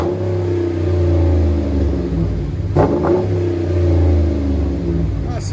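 Revving V8 exhaust from a RAM 1500 pickup's 5.7 HEMI with a Flowmaster Outlaw muffler, steady deep rumble swelling with a sharp blip near the middle, loud and close, no talk.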